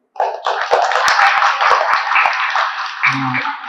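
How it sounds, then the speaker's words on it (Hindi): A group of children clap their hands together in a dense, steady burst of applause that starts abruptly and carries on for several seconds, with a voice briefly heard near the end. "यीशु के नाम पे सब तालियां बजाइए।"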